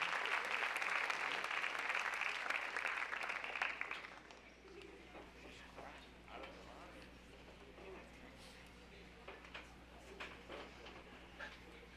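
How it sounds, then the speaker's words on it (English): An audience at a school extracurricular awards assembly claps loudly for about four seconds, then the applause cuts off abruptly, leaving a quiet room with faint murmurs and small noises. "Big round of applause."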